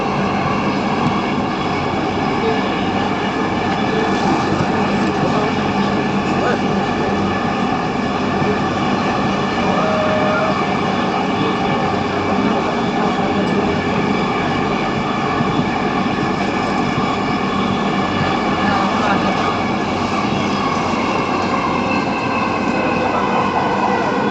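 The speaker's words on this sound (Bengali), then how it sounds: "this train is bound for Uttara Uttar next station is Shewrapara" A Dhaka metro rail train runs between Agargaon and Shewrapara with a steady, loud rumble and hum from inside the carriage, continuous for the whole stretch with no speech.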